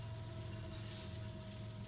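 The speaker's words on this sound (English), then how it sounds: "It's Union Pacific trains going through the Four Diamond Crossing in" A Union Pacific train rolling through the Four Diamond rail crossing in Rochelle, a steady distant rumble with a sustained tonal whine and faint clatter, continuous and fairly quiet.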